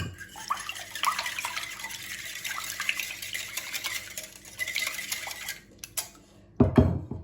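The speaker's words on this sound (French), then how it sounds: "je viens mélanger tout ça" Cake batter of olive oil and milk being mixed in a bowl, brisk utensil clinking and scraping against the bowl, ending with a louder knock.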